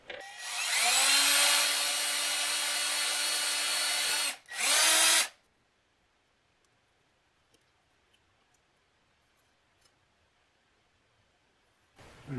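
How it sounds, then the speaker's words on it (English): A small power drill bores a 1mm hole in a circuit board for a Peavey Butcher amplifier bias mod. It whines loudly for about four seconds, cuts off briefly, gives a short final burst, then stops into near silence. "if we drill a 1mm hole in between this hole and the edge of the board"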